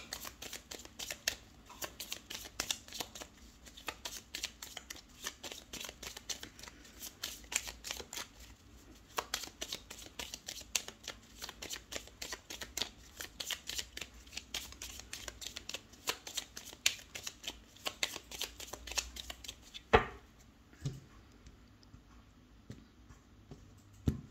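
A tarot deck is shuffled and cards are drawn, producing a long, dense run of rapid papery riffling and flicking up close that stops abruptly near the end, leaving a few isolated taps.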